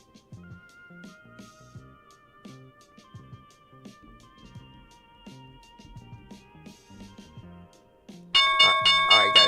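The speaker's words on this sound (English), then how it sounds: "There's the opening bell." A stock market opening bell rings out loud and bright, a rapid repeated clang that cuts in abruptly over quieter musical tones and murmuring.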